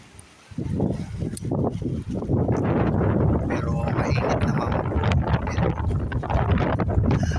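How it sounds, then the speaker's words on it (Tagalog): Strong wind over the sea on a cold morning buffets the microphone in a loud, continuous rumble, with a person speaking briefly underneath. "Malakas ang hangin."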